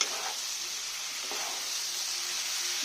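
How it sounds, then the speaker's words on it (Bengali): Mutton curry sautéing in a pan, a close, continuous sizzle and hiss with a couple of faint stirring scrapes, steady and unaccompanied by speech. "দিয়ে একটু ভালো করে আবার আমি কষে নেব"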